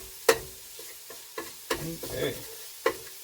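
Food browns in a frying pan for biscuits and gravy, a low sizzle broken by several sharp scraping stirs of a utensil against the pan, with a brief spoken word.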